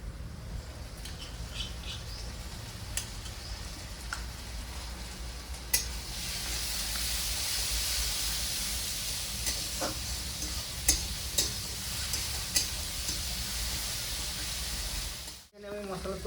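Ginger, garlic and green chilli paste fries with browned onions in a pan, making a steady, moderately close sizzle with scattered ticks and scrapes from stirring before the sound cuts off abruptly.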